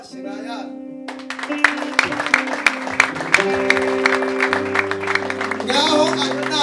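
In a church, a congregation claps in lively rhythm beneath held keyboard notes and an amplified voice, the handclaps steady and close, with occasional sharp accents throughout.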